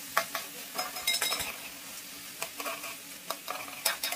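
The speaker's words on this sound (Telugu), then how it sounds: "ఇప్పుడు కట్ చేసి పెట్టుకున్న బీరకాయ ముక్కల్ని కూడా వేస్తున్నాను. బీరకాయలు కూడా బాగా వేయించుకొని" Ridge gourd pieces frying with onions in a pan, a soft sizzle under intermittent scraping and clinks of a stirring spoon against the pan, close and fairly quiet with no speech.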